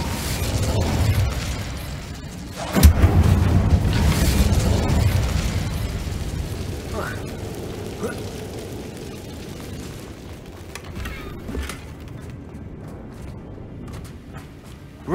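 A fire spell cast in Hogwarts Legacy, heard as a sudden sharp blast with a boom that decays into rumbling, then a few softer pops and crackles over a low continuous background.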